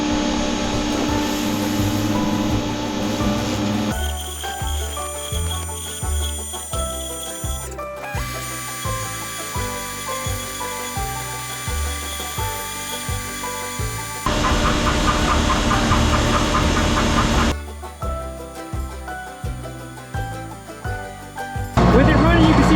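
A farm manure spreader runs with a mechanical clatter of moving bars and a steady engine hum, the rhythm shifting in sections as the machine works nearby.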